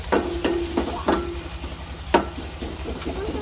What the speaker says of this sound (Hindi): ऑयल हमारा गर्म हो गया, अब मैं प्याज डालती हूँ।